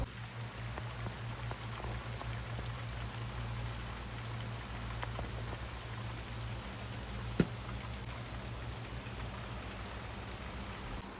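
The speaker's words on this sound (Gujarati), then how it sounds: "વરસાદ ચાલુ થયો ફૂલ" Steady rain falling continuously, a soft even hiss of drops with one brief sharp tick partway through; no voices.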